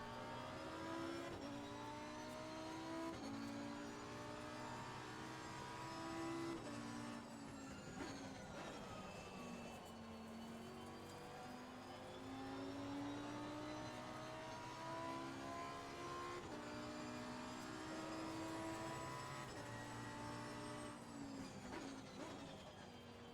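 A damaged race car's engine in the Assetto Corsa Competizione racing game revs loudly and continuously, its pitch rising and falling through repeated sweeps with no talk over it.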